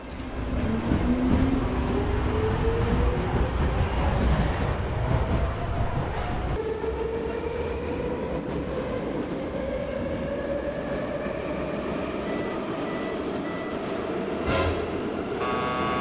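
Subway train running along the rails, a loud continuous rumble with rising and falling wheel tones and squeals, heard close from on board with no talk.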